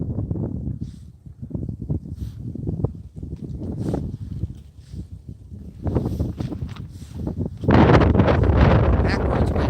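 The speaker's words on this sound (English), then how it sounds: "Backwards wind coming the other way now. Winds just swirled on us." Gusty wind swirls outdoors during a fishing trip, buffeting the microphone in uneven rushes that grow to a loud, sustained roar toward the end.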